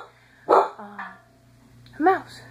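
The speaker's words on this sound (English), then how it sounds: "Sorry for my dog barking." A dog barks indoors twice, a sharp close bark followed by a second one a moment later, loud over a low background hum with a short yip between.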